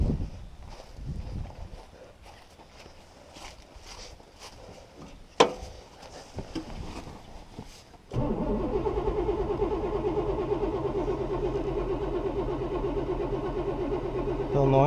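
A 1969 Buick Special Deluxe with a fuel problem cranks steadily and loudly for the last several seconds without catching, after quieter shuffling and a sharp knock earlier on.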